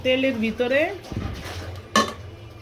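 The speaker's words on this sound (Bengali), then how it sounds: "মাংসটা আমি দিয়ে এখন নেড়ে চেড়ে দিচ্ছি।" Meat is stirred into onion-frying oil in a pressure cooker for biryani, making a few close metallic clanks and scrapes of a spoon against the pot after someone speaks.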